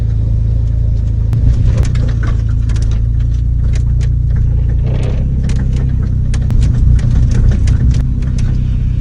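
A car engine rumbles continuously and loudly while driving through snow, with scattered small clicks and knocks over the steady drone.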